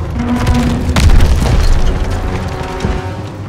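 Tanks advancing over trenches on a Call of Duty WWII battlefield, with loud, deep booms and a dense rumbling roar that peaks early, then continues under scattered battle noise.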